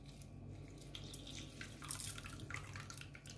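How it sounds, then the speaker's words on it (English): Lime juice is squeezed by hand and drips into a bowl of liquid with ginger and red onion, making soft, faint trickling and splashing for a few seconds, with no talking. "Get as much juice as you can get from the lime."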